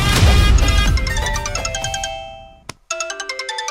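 Mobile phone ringtone for an incoming call, a bright repeating electronic melody playing loud and close, stopping briefly before starting again with regular pulsing notes.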